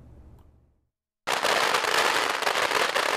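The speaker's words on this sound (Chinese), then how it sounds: "鞭炮声响彻云霄" Firecrackers burst at a Foxconn (Hon Hai) work-opening ceremony in Taiwan, a loud, dense and continuous crackling barrage that erupts suddenly after a brief quiet and keeps rattling without pause to the end.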